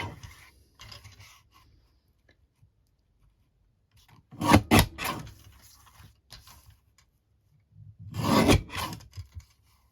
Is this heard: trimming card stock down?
yes